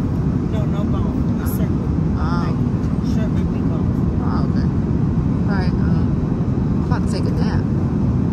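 A constant low cabin drone fills a passenger airliner on a long-haul flight to South Korea, with faint clinks and brief rustles surfacing over the steady hum.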